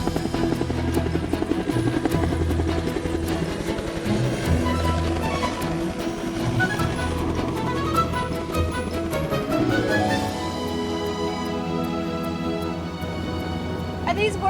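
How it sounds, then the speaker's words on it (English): A helicopter rotor and engine drone loud and close throughout, a dense steady chop with a pitch shift partway through, while people talk over it. "I've never been in a helicopter before."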